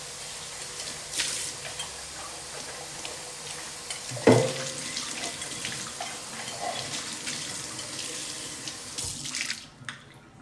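A small plastic pot is washed under a running kitchen tap, with a steady stream of water splashing into the sink the whole time, one sharp knock near the middle, and the flow ending abruptly at the close.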